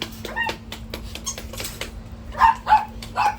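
Small puppies yip and whine in short high bursts, a few close yelps scattered over a quiet, slightly clattery background.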